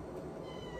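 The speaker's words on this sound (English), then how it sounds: "The cat, I gotta feed her too. She's like, give me." A domestic cat meows once, faint and close, in a quiet indoor room during a brief moment with no talking.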